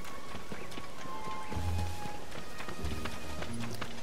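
Rain falls in the video game Zelda: Tears of the Kingdom, a dense, steady patter of drops lasting the whole clip. Light tapping footsteps and faint tonal game sounds mix in at moderate loudness.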